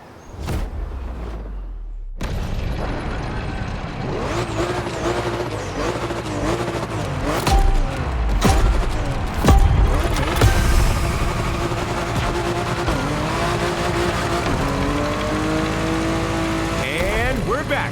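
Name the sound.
W Motors Fenyr Supersport car driving in video game The Crew Motorfest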